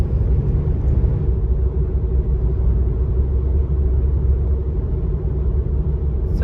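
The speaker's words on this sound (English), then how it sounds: "So we're driving into Staunton" A car drives along a road into Staunton, its low steady road rumble and engine drone filling the interior at a constant level, with no voices over it.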